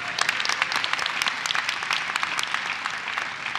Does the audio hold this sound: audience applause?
yes